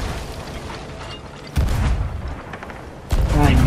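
Two heavy booms from ship cannons in the pirate game Sea of Thieves, one at mid-clip and another near the end, each rising over a constant rumble of sea and game noise.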